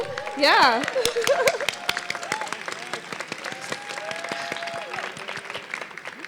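An audience at the 33rd Annual Black Celebratory gives the advisor a warm round of applause, many sharp claps ringing close and full, with a few voices whooping near the start before the clapping tapers.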